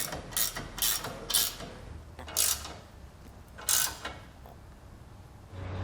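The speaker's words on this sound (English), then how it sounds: "So I'm just going to use the 3/4 inch wrench to hold the bolt at the top. Then we're able to tighten the nut down." A 3/4 inch wrench tightens the nut on a TorkLift SuperHitch trailer hitch bolt while the bolt head is held, giving several short ratcheting, grinding bursts with pauses between them, close and moderately loud against a low background hum.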